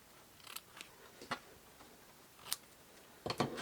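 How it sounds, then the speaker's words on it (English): Scissors snip the ribbon ends of a bow on a Christmas gift bag, giving a few sharp, isolated clicks spaced through a quiet room, the last two close together. "let me cut the ends off"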